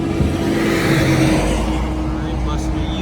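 A 2003 Acura RSX's engine accelerates close by during a U-turn, a loud, steady rising engine roar from inside the car, with a voice briefly audible over it.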